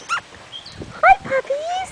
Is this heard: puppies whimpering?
yes